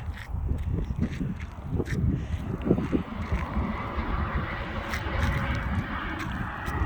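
A steady, breezy wind rushes over a campground, with continuous low rumbling buffeting across the microphone and small gusts rising and falling throughout, with no voices.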